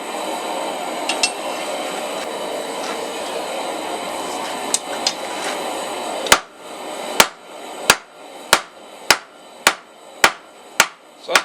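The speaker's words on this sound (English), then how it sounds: "half on, half off blows to work down that steel" Hammer blows forge a steel taper for a leaf key chain. A steady hiss of background noise comes first, then about nine sharp, ringing metal strikes land at an even rhythm, loud and close, with no talking.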